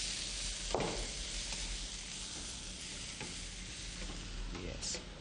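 Spinach with green chilli stir-fries in a cumin and mustard seed tempering, a soft steady sizzle with occasional scrapes from stirring, fairly quiet and close.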